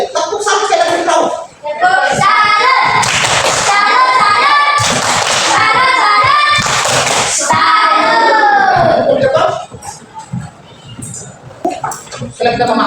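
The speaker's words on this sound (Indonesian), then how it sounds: "Tepuk satu sekali dari Rauf." Pupils in an Islamic religious education class break into patterned rhythmic clapping in loud bursts, with children's voices and a teacher talking between the claps.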